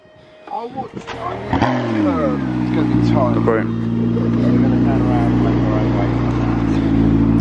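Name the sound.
Ferrari Enzo hypercar engine starting and revving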